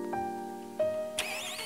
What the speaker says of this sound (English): To operate it, you have to turn the engine on.